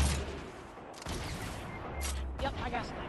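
Rapid gunfire bursts from a shooter video game sound in short clusters, fairly quiet and mixed with some game noise, with no voices over it.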